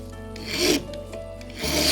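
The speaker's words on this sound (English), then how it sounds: "file the end of the tapered pin down to a 45-degree bevel" A small tapered brass pin for a clock movement is filed against a block of wood, giving steady rasping strokes in two bursts separated by a brief pause, close and moderately loud with no talk.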